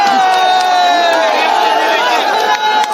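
A large crowd at a political rally for P.V. Anvar at Chanthakunnu ground in Nilambur roars and cheers loudly, many voices shouting and whooping together in one continuous, dense wall of noise.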